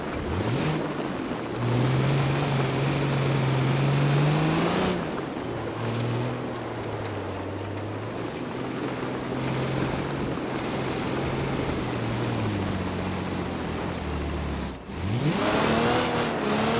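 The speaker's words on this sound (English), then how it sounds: "That's not the most powerful truck in this game, but I really enjoy driving around with it." Autobello Stambecco off-road truck from BeamNG.drive, its engine droning steadily while driving, with pitch rising and falling through gear changes and a sharp cut near the end before revving back up, loud and continuous with no talk.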